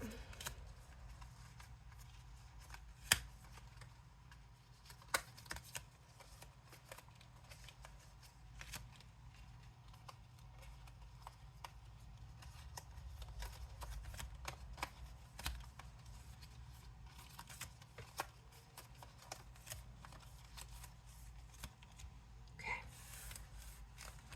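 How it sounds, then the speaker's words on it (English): Quiet riffling and flicking of playing cards being shuffled, soft crisp bursts with a few sharper snaps against faint background hum. "Give it a little shuffly shuffle."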